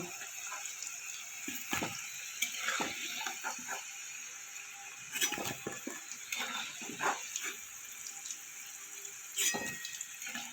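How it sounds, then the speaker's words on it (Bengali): Potato pieces fry in hot oil in a kitchen, a steady soft hiss broken by scattered sharp crackles and pops throughout. "আলুটা আমার ভাজা হয়ে গেছে, এবার আমি তুলে নেব।"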